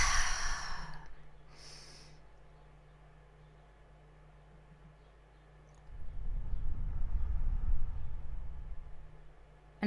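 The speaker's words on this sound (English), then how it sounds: "Take a deep breath." A group of people take deep breaths together, with a soft sighing exhale early on and then a long, quiet, breathy inhale near the end, faint and close with no talking.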